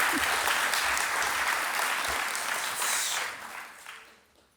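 A conference audience applauds an anonymous donor at an opening welcome session, a dense wash of clapping that holds steady and then fades out over the last second or so.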